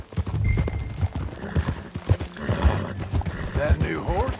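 Horses ridden at a steady pace in the Red Dead Redemption 2 video game, hooves clip-clopping rhythmically under frequent talking, with a brief whinny and some game ambience.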